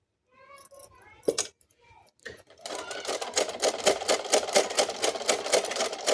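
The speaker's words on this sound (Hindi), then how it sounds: "मैं इसकी सिलाई कैसे कर रही हूँ।" A sewing machine stitches a sleeve, running in a steady rapid rhythmic chatter that starts after a few brief clicks and soft sounds, then continues loud and close to the end.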